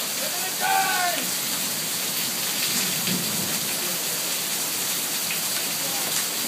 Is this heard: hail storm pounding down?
yes